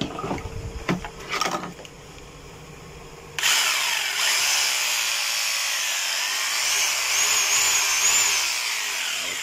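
An OKATZ 850W rotary hammer switched on for a test run: a few quiet handling knocks, then the motor starts abruptly into a loud, continuous high whirring drone that holds steady to the end.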